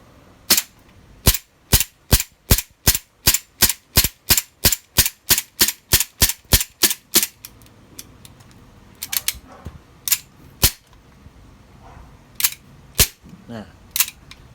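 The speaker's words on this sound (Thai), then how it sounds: "เดี๋ยวเราจะยิงจนหมดแม็กเลยนะอ่ะ" An airsoft gas pistol fired until the magazine runs dry: about twenty sharp, loud cracks in a fast, even string, then a few scattered shots and mechanical clicks, with faint background talk.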